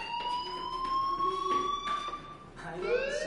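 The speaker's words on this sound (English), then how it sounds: "Hey, do you hear that fire alarm?" A fire alarm rings inside a school in the video game Life is Strange, with sustained electronic tones and a rising siren-like sweep near the end, heard at moderate volume with no talking.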